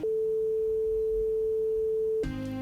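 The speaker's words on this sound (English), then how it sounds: "So let's take something like A440." A pure A440 tone sounds as a steady, unwavering sine note held for about two seconds before cutting off into a brief different resonant tone, clean and alone.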